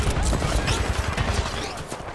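Gunfire from a firefight in the Titanfall 2 campaign, a dense rattle of overlapping shots in rapid bursts, fairly loud and continuous, with a voice briefly talking over it.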